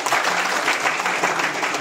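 An audience at a DXN Nepal gathering breaks into a short, dense burst of clapping. The applause is loud and steady throughout and drowns out any other sound.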